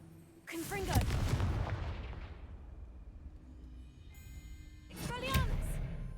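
In the Hogwarts Legacy video game, two fiery Confringo spell blasts go off, each a loud booming burst with crackling tails, the first early and the second near the end, separated by a fading rumble.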